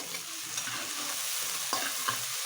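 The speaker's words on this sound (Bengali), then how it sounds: "আবারও ভালো করে ভেজে নেব" Chopped onions with salt fry and sizzle in a pan while being stirred, a continuous close hiss broken by a few scraping strokes.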